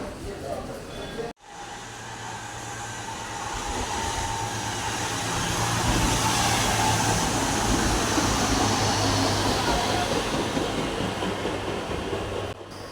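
A passenger train pulls into Chalakudy railway station, its rumble and wheel noise building steadily from a quieter start to a sustained loud roar, with carriage sounds continuing throughout.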